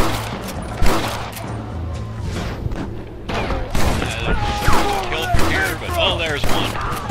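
Gunfire in the Western video game Red Dead Redemption: scattered shots and bursts ring out over game sounds while someone talks throughout.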